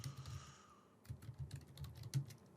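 Keys clatter on a computer keyboard as someone types a customer's name into a web form, a quick irregular run of close, light clicks with a brief pause partway through.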